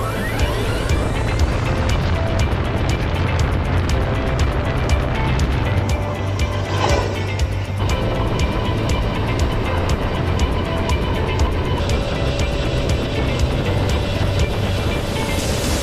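A 1/8 scale Ford F150 Raptor RC truck drives on pavement, giving a continuous whirring motor and gear drone with rolling tire noise, steady and fairly close, and a brief passing swell near the middle.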